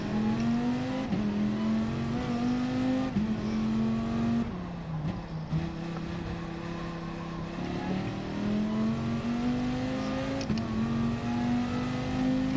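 A race car engine in a racing game holds a steady high drone while lapping, its pitch shifting smoothly through gear changes and throttle lifts, loud and close the whole time with no talk.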